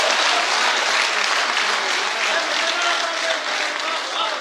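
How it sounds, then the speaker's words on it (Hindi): A large audience at a poetry gathering breaks into loud, sustained applause with dense, continuous clapping that holds evenly throughout. "एक बार जोरदार तालियों से इस्तकबाल किया रहा है"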